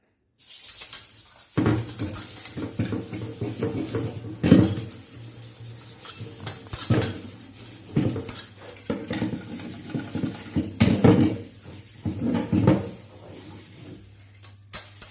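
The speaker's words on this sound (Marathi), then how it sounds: "आपण थोडंसं साबण लावून याला धुवून घेऊया" An iron kadai being scrubbed with soap to remove oil: continuous close scrubbing and rubbing with scattered clanks of metal, steady and fairly loud throughout.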